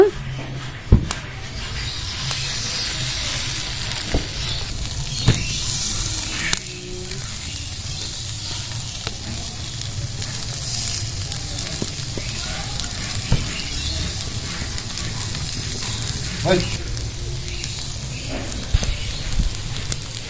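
Leftover-rice pitha batter sizzles steadily on an oiled pan, a continuous close frying hiss with occasional small clicks and taps of utensils over twenty seconds.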